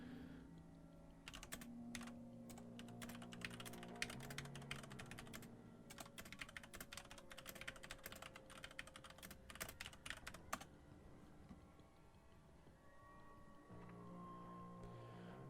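Rapid typing on a computer keyboard sends a quick chat reply, a dense run of clacking keystrokes that thins out and stops near the end, over a steady low background hum.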